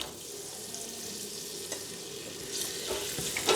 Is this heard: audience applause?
no